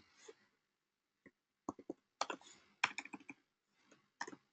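Code is typed on a computer keyboard in short, irregular bursts of crisp clicks and key taps, close and fairly quiet, with pauses between groups of keystrokes.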